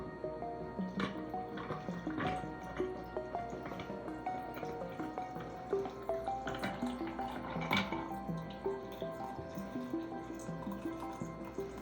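Pumpkin spice foam poured into an iced latte glass over ice, with a steady trickle and soft dripping plus light clinks, close and fairly quiet throughout.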